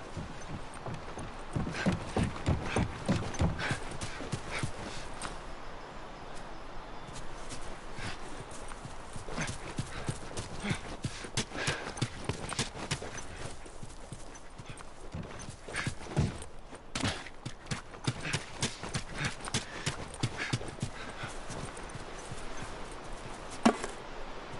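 Horses' hooves clip-clop steadily on the ground in The Last of Us Part II, a continuous rhythmic trotting of several horses, fairly close and even, with occasional louder knocks.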